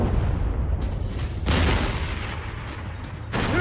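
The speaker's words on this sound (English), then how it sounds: "these guys launched 2 Sabo rounds" An M1 Abrams tank fires sabot rounds at range targets, with heavy booming blasts in quick succession and a rumbling, roaring wash of sound in between.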